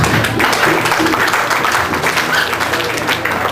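Audience clapping for a young Sunday school child at a church Sunday school anniversary, a steady dense patter of many hands filling the room throughout, with a little voice mixed in.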